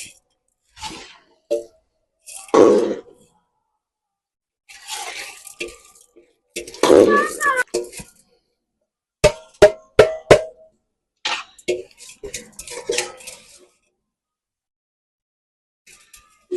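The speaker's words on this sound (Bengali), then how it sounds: "পোলাও চালটা দিতেছি, দাও নাড়া দাও নাড়া দাও নাড়া দাও নাড়া দাও" Polao rice poured into a clay pot and stirred for home-made mutton kacchi biryani, with wet squishing and scraping bursts in short uneven strokes, separated by quiet gaps, while voices talk.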